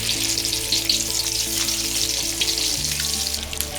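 Lamb kola urundai dumplings frying in hot oil, a loud continuous crackling sizzle with a steady hum underneath, close up and without speech.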